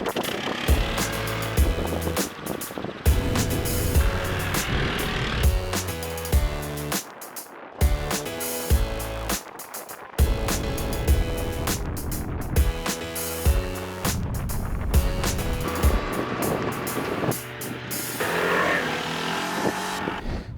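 A Royal Alloy JPS 350 scooter with about 21 hp rides at speed toward its roughly 120 km/h limiter, a loud continuous engine and wind roar with repeated rising and falling revs and a few abrupt drops.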